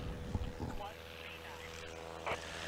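Experimental-class bush plane taking off at a STOL competition in Brainerd, its propeller engine droning steadily at mid distance, with a commentator's voice heard briefly near the start.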